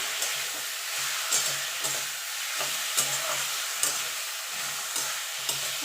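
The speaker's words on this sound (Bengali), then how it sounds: "এবার ভালো করে মিশিয়ে নেবো" A spoon stirs cooked bathua greens with a little added sugar in a pan, giving regular scraping strokes roughly once a second over a steady soft sizzle, close and alone.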